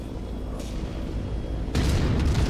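A mech explodes in the MechWarrior video game, a deep, heavy boom that bursts in loudly near the end after a low rumble of battle noise, with an earlier softer blast.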